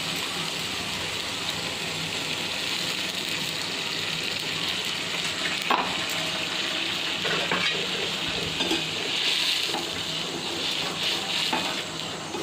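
Water poured into a frying pan of mustard paste and stirred produces a steady bubbling sizzle, with scraping and a few clinks of a utensil against the pan.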